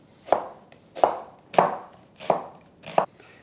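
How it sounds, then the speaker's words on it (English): A knife slices onions into half moons on a cutting board, giving five evenly spaced, crisp chopping thuds close up with quiet pauses between them. "And I'm slicing the onions into half moons."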